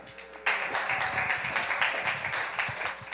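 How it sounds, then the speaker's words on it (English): Audience clapping at a youth huddle gathering, starting after a brief quieter moment and then holding steady as a close, lively round of applause throughout. "Patrice, y'all, clap her up."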